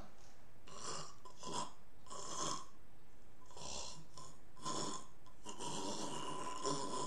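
A voice imitates a death rattle, making slow, repeated gargling, rasping breaths in long bursts with brief pauses between them.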